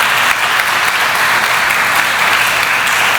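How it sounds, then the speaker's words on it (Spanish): A church congregation claps in loud, dense, sustained applause that fills the room throughout, with no voice heard over it. "Démosle un fuerte aplauso a nuestro Padre Celestial"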